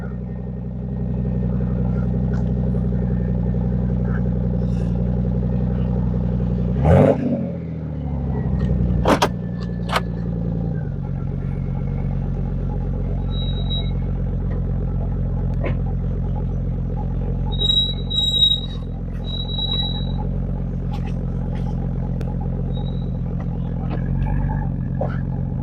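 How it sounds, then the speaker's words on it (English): A Lexus GS300 (Toyota Aristo V300) with a 2JZ engine idles steadily while warming up, a close, even low hum with a couple of brief clunks and faint high chirps partway through. "Here we're just warming up our beautiful Black Cherry. Magnificent sound of that 2JZ"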